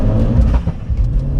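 A 310 bhp hybrid-turbo Vauxhall Corsa VXR pulls hard in second gear from 30 mph, a brief loud throaty engine rumble rising as it accelerates, heard from inside the car.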